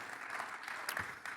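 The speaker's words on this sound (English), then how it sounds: "So let's give them a huge round of applause for the amazing job that they're doing." Faint, distant applause from a church audience for the team, a steady wash of clapping heard alone across the short stretch.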